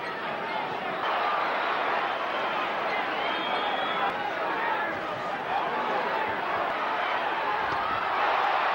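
A boxing arena crowd at a Mike Tyson versus Tony Tucker fight, a steady roar of reaction and chatter. It stays continuous and fairly loud, and a commentator talks over it.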